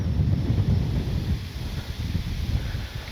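Steady, loud wind buffets the microphone at an open RC plane flying field, with a continuous low rumble and gusty surges and no voices.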